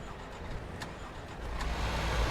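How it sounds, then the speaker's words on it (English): A truck engine dying in the TruckersMP driving simulator, a faint mid-range engine rumble that sinks into a low drone toward the end. "Every time you can hear their engine dying."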